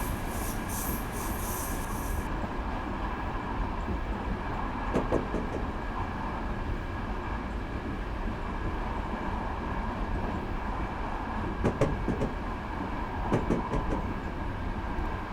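Train on the Pacific Surfline route from Irvine to Oceanside in Train Simulator 2015 video game, a steady continuous rumble of the moving train with occasional sharp clicks and wheel noises, no voices.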